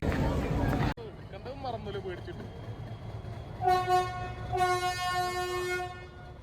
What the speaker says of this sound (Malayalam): സോ നമ്മൾ വന്ന ട്രെയിൻ തിരിച്ച് കൂണൂരേക്ക് പോവാണ്.